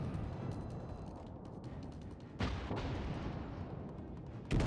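Secondary guns on the battleship Georgia firing at an enemy ship in a World of Warships naval battle, a dense rumble of repeated booming shots with sharper blasts near the middle and end.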